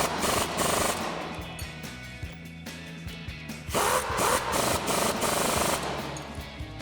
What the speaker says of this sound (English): grab a 17mm socket for our nut side and a 16mm wrench for our bolt side and tighten those down